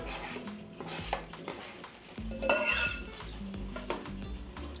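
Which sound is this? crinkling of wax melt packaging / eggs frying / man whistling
eggs frying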